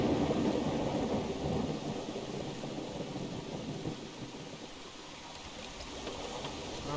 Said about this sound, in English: we got the very cheerful, happy rain sounds back that I'm so happy to have in the game